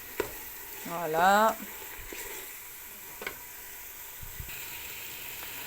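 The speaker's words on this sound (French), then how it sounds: "je fais revenir, je mélange" Tomato paste sizzling and stirred in a pan, a soft steady fry with occasional scrapes and taps, and a short spoken word near the start.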